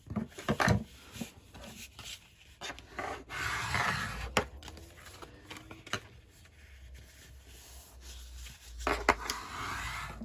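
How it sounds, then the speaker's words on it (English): Scored slim card paper being folded along its lines, with dry rubbing, creasing and papery scrapes in uneven bursts and occasional sharp taps, close and fairly quiet, no voices. "you're now just going to fold all of your lines"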